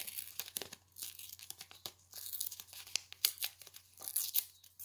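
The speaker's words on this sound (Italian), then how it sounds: "Tengo forte e strappo lungo la linea curva che ho disegnato." Paper is torn by hand along a curved drawn line, a series of close, crisp ripping bursts with crinkling between them, heard clearly alone.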